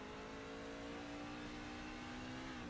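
A race car in a racing video game at Sonoma circuit, heard from the cockpit: a loud, steady engine drone with a strong tonal whine that holds and then dips slightly in pitch at the end as the car slows hard.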